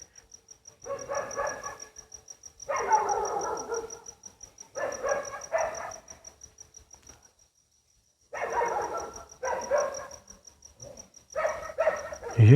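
A dog barks in bursts of several rapid barks separated by pauses, fairly close, with a steady insect or cricket-like tone running through the night background.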